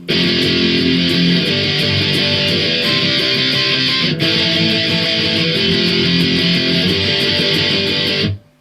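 A loud, dense band of strummed electric guitar power chords plays steadily for several seconds, full and driving, then cuts off abruptly.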